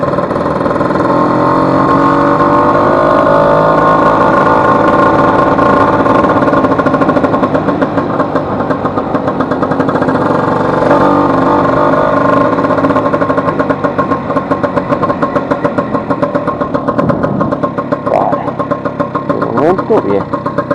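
A Vespa 150 scooter engine with a mechanical noise fault runs loudly and steadily for the whole stretch, a continuous idling drone with rough, rattling undertones.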